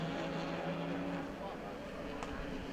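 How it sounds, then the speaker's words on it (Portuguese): Stock race car heard from the on-board camera during an overtake, a loud continuous engine roar with a steady droning tone filling the whole stretch. "Vamos ver o replay aí da ultrapassagem do Djalma Fogaça em cima do Fabinho, na câmera on-board."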